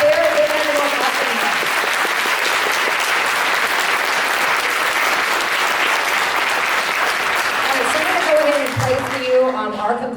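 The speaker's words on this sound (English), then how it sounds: "Can we get a round of applause?" Audience applause fills a school spring concert after a wind ensemble performance, a steady, dense clapping that stays loud throughout before tapering near the end.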